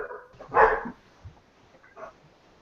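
A pet dog gives one loud bark near the microphone, followed by a couple of fainter yips indoors.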